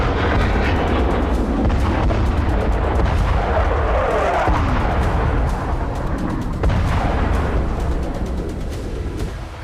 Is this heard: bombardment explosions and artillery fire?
yes